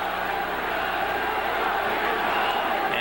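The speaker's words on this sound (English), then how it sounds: "Much of the crowd chanting Gatti, Gatti, Gatti, as the young man made his way into the ring" A boxing crowd roars and chants a fighter's name, Gatti, as he walks to the ring, a loud, sustained arena din with no clear rhythmic beat.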